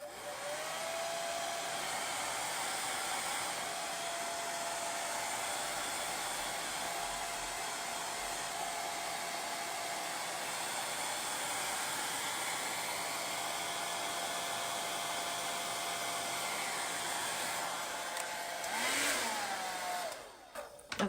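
A hair dryer blows on wet acrylic paint, a loud steady whooshing whine held for about twenty seconds, then shut off with a falling pitch as the motor winds down.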